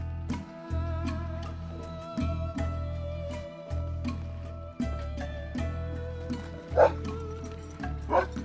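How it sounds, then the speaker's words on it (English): Two dogs at a rural home a couple of hours outside Ulaanbaatar, Mongolia, bark in repeated bursts over steady low background noise, with a few sharper yips near the end. "their 2 dogs, Arslan and Matzale."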